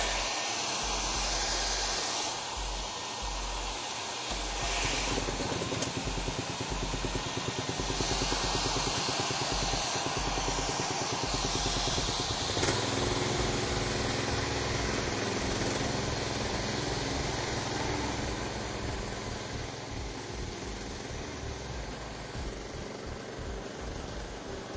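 A gas-powered concrete grinder with an Edco dust collection system roars loudly and continuously indoors, a steady broadband engine drone that barely varies for the whole stretch, with no talking.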